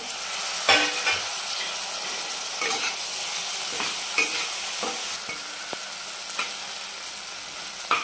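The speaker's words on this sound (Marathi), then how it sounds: "नंतर एक मोठा टोमॅटो कट करून घेतलेला आहे. तो टोमॅटो पण टाकून घेते." Chopped tomato frying in a pan of radish-leaf vegetable dish, a constant close sizzle punctuated by a handful of sharp stirring clicks and scrapes, with no one speaking.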